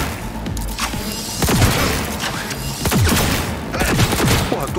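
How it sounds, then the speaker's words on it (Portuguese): Johnny Silverhand's pistol fired in Cyberpunk 2077, loud close shots cracking out in quick bursts amid a dense firefight, with no talk. "O doidão tá atirando em mim com a minha arma."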